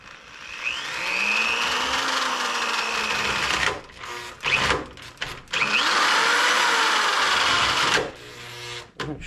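An electric drill drills into material in two long sustained whining runs with a pitch that sags under load, separated by brief stops and short bursts.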